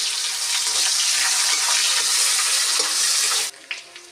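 Sliced onions frying golden brown in a pan, a dense steady sizzle close by for several seconds that cuts off abruptly, followed by a couple of faint clinks.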